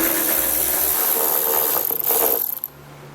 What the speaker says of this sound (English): Next, we're going to take an 8mm socket. We're going to move this screw here.